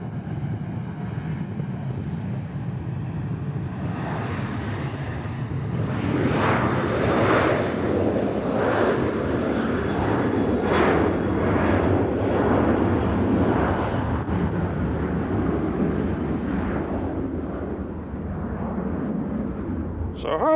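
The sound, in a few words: Southwest airliner departing Nashville for Fort Lauderdale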